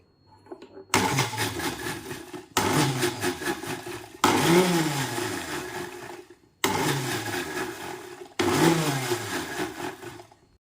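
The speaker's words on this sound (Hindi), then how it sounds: "मिक्सी का जार जो है पल्स मोड पे धीरे धीरे चलाते रहेंगे" A mixer grinder jar blending a thick paste whirs in five separate pulses, each starting abruptly, running loud for one to two seconds and cutting off with short pauses between.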